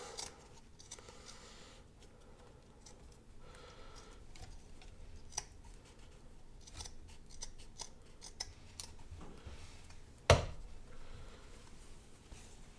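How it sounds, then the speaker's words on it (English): Scissors cutting a hole in a tea towel in a kitchen, giving faint scattered snips and ticks with one sharp louder snip near the end, and no voices. "we're going to cut a hole in the tea towel"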